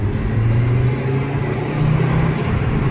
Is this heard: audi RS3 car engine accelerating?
yes